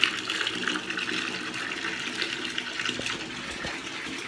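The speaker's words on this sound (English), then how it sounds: "Delightful and filling up with water." A big soaking tub fills from the tap, a steady broad rush of running water continuing throughout with a few faint splashes and knocks near the end, no talking.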